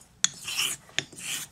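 Thiers Issard straight razor drawn across a long sharpening stone, two separate gritty rasping strokes, each opening with a sharp tick, close and clear with no talking.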